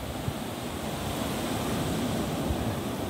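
Ocean surf washing onto a seaside shore, a continuous broad rushing roar with slow swells and some wind buffeting the microphone, no voices.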